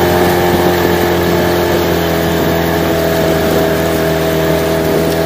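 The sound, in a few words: Parsun T15BMS 15 hp outboard boat motor running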